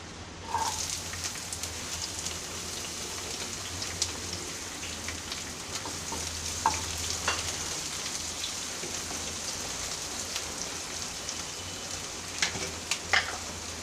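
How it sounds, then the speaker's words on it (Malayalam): Chopped onion, shallot, green chili, ginger and curry leaves sizzling in hot coconut oil, a dense rain-like crackle that holds steady throughout with a few louder pops, close and without speech. "വെളിച്ചെണ്ണ ചൂടായി വരുമ്പോൾ അതിലേക്ക് ഇടാനായിട്ട് ഉള്ളി അരിഞ്ഞത്, ചുവന്നുള്ളി അരിഞ്ഞത്, പച്ചമുളക്, ഇഞ്ചി, കറിവേപ്പില ഇതെല്ലാം നമുക്ക് ഇതിലേക്ക് ഇട്ട് കൊടുക്കാം"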